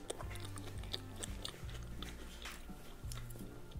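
Someone eats a Philadelphia sushi roll up close, ASMR mukbang style, with soft repeated biting and chewing, squishy mouth sounds and faint crunches in a slow rhythm.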